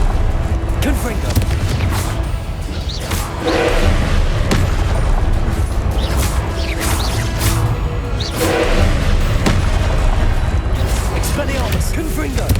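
Repeated Confringo blasting-spell explosions from Hogwarts Legacy, dense booms and whooshing bursts recurring every second or two over a continuous layer of combat noise, with voices mixed in.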